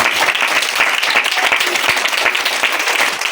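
Dense, sustained applause from a crowd at a school-kit handover ceremony, many hands clapping at once in a loud, steady wash of sound.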